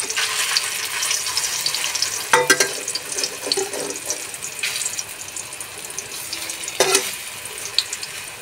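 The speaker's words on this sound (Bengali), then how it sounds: "এই জন্য হালকা আঁচে ভেজে নিচ্ছি।" Raw banana kofta fry in oil over low heat, a steady fine sizzle and crackle with a few louder pops and spatters where pieces are turned, no voices.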